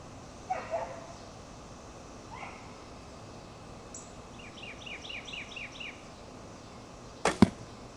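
A traditional bow is shot from a hunting saddle outdoors: a sharp, brief string snap and arrow release near the end, with a quiet background of bird chirps.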